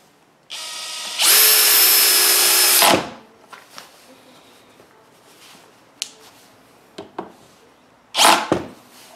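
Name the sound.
18V cordless drill driving and countersinking a screw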